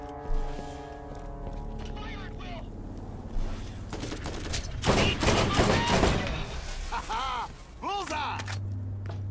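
Gunfire in the video game Borderlands, a cluster of loud, sharp shots bursting in the middle of the clip over game music, with synthetic whooshing effects and talk around it.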